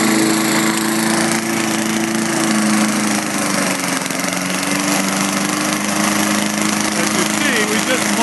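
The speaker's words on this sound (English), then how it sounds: "Now we have the mower going, and we'll try to get some of these leaves." A lawn mower running over fallen leaves by a lake, a loud steady engine drone for the whole stretch with a voice talking faintly beneath it.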